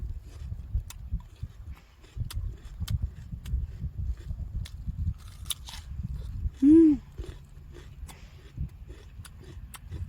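Crisp, crunchy chewing of sweet, non-spicy radish kimchi (seokbakji), eaten outdoors at a winter cabbage field; close, steady bites and munching with a brief tonal hum midway.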